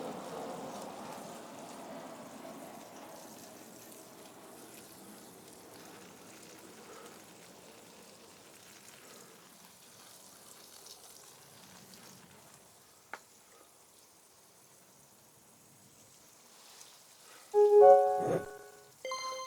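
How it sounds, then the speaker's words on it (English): Newly planted vegetable and flower seeds in a garden get a quick watering, a soft, steady hiss of spray on soil that thins out to near silence, ending with a few sharp close knocks. "So everything's just getting a quick water."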